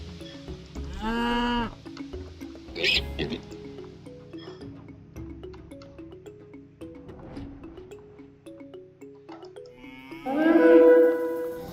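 Cattle lowing in a few long, drawn-out moos in the video game Age of Mythology Retold, with quieter game sound effects and faint tonal music in between.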